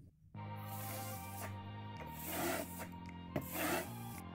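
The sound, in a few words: trowel smoothing wet decorative silk plaster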